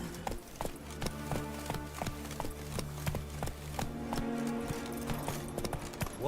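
A horse gallops in the Witcher 3 video game, a steady rhythmic clip-clop of hooves over a looping in-game music bed.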